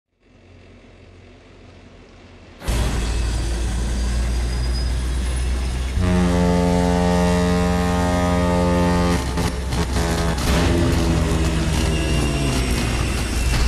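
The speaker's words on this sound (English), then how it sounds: "Well, it sounds like a tugboat, even though it doesn't look like one." A deep, sustained boat horn resembling a tugboat from the video game Kentucky Route Zero blares loudly and continuously, rising in intensity after a few seconds and holding a rich droning tone throughout.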